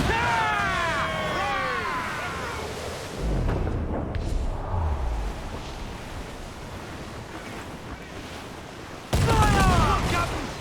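Heavy cannon booms from sailing-ship guns in Assassin's Creed IV Black Flag, with crashing surf and wind around a naval battle, deep blasts spaced apart and voices shouting in between.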